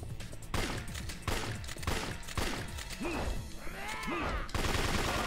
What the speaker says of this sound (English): a lot of shooting